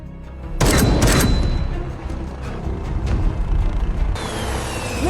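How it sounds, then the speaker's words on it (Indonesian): A sudden loud blast in an action film bursts in and rumbles on as a long, heavy roar with crackling debris, then a high whine and lingering noise close behind it. "Akibat ledakan itu, Mason dan Wellington pun terpisah"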